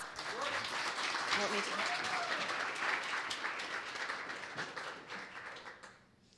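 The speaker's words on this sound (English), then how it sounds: "Let's give him a round of applause" Audience applause at a marketing chapter talk, steady many-handed clapping that builds and then tapers off toward the end, with faint voices beneath it.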